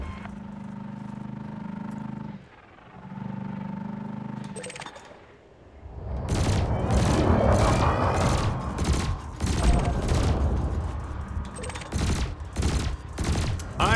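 Spaceship cannons and lasers firing in Elite Dangerous, a rapid series of sharp, bright bursts over a dense crackling roar, preceded by a quieter stretch of steady humming ship tones.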